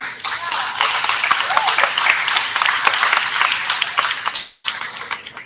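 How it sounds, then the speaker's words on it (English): An audience at a school board of education meeting applauds parents, steady moderately close clapping from many hands that cuts out briefly near the end and resumes. "a nice round of applause for all their parents"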